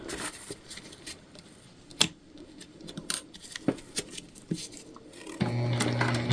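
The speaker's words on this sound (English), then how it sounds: "Like I said, we are going to back stitch." A sewing machine back stitches a fabric shoulder bag, with scattered clicks and taps of handling followed by a steady, close mechanical whir of stitching over the last second or so.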